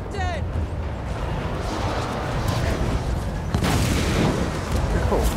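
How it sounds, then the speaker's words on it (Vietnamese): Cannon firing explosive shells in the Total War Warhammer 2 battle, dull booms and blasts spread through dense battle noise, with a louder burst midway. "Cái khẩu pháo nó bắn đạn nổ."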